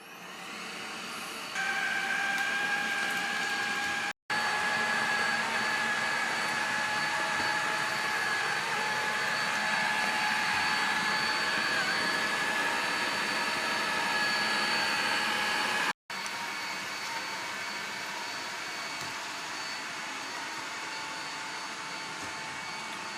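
ILIFE W455 Shinebot floor-washing robot running with its brush at full speed, giving a steady, loud whirring motor hum with a high whine, cut by two brief silences and slightly quieter toward the end.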